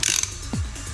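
Quick ratchet clicks from a hand wrench tightening a bolt on a VW T4 Syncro wheel hub assembly, a brief close burst of mechanical ticking heard alone.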